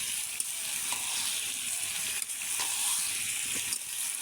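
Bottle gourd and pre-fried egg sautéing in a pan, a steady broadband sizzle with faint clicks and scrapes running continuously and close, with no talk.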